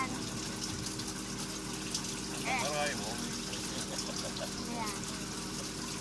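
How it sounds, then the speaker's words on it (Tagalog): Water from a mountain spring runs and splashes steadily as people collect it for drinking, a continuous wash heard under people talking nearby. "So the water is coming from the mountain."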